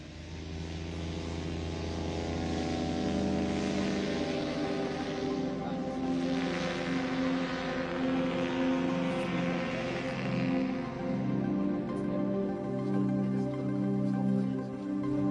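A small propeller airplane drones steadily through the whole stretch, its engine note swelling slightly as it passes, heard alone without talking.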